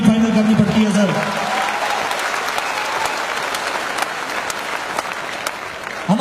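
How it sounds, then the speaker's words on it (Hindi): Loud applause erupts from the audience at a direct-selling business seminar and carries on for about six seconds as a thick rattle of clapping hands, with a voice briefly heard at the start before the clapping takes over. "ताली जोरदार वाली बजा लीजिए"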